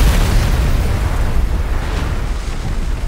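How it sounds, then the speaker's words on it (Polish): A booming explosion in the underwater survival game Subnautica: Below Zero, a sustained loud low rumble that fills the whole moment and slowly fades without any talking. "czy wybuchnie i mam teraz potwierdzenie, że tak"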